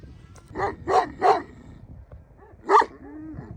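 A Kangal dog barks four times nearby, three quick deep barks in a row, then a pause and one more bark.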